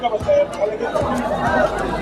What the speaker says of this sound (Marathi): भाविकांची प्रचंड गर्दी आहे इथे.